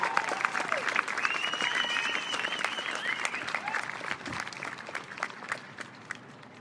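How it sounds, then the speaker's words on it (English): A crowd at an outdoor animal rights march claps steadily in sustained applause, fairly close, with some voices calling out over it. "give him a round of applause"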